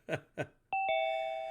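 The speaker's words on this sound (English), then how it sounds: "Ding dong." A doorbell rings with a clean two-note ding-dong chime whose second tone rings on and fades slowly, preceded by two short muffled bursts.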